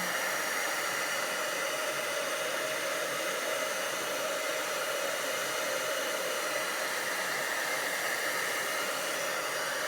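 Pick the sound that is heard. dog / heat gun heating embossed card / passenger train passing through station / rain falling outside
heat gun heating embossed card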